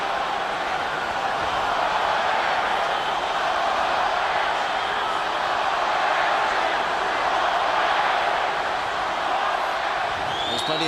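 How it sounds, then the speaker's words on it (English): Rugby crowd at a Tri-Nations match between New Zealand and Australia, with Kiwi fans chanting and yelling for the All Blacks, a steady broad roar of many voices filling the stadium throughout. "There's plenty of Kiwis in the crowd yelling All Blacks"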